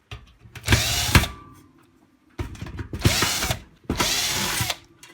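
A power tool unscrews the casing of a Dualit 3-slice toaster, model 3SLU, recovered from a skip. Three close whirring bursts are separated by short pauses, with no talk.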